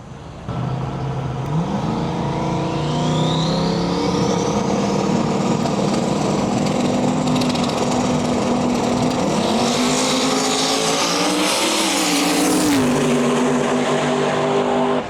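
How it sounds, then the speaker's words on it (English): A 4th gen F-body Camaro drag races on the far side of the strip at a small-tire invitational, engine howling up through rising gear pulls with brief pitch drops at the shifts, loud and continuous. "Looks like we got a 4th gen F-body Camaro far side of the track."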